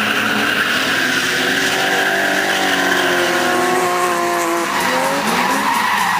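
BMW drift cars battle for third place at a Kaunas drift event, tires squealing loudly and continuously with a rising engine whine over constant roar.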